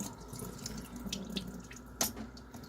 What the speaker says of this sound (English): Turn it on hard enough so I can get the hot water running.